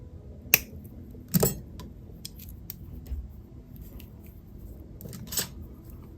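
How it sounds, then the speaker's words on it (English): Small cutters snip through excess jewelry pin wire with a few sharp, close clicks spread across the quiet, mixed with light handling noise. "And now let me cut off the excess pin."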